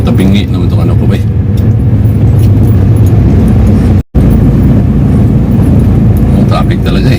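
Dense road traffic in Taguig City, a loud continuous rumble of cars and buses with passing engine surges, interrupted by a brief dropout midway, with faint voices mixed in.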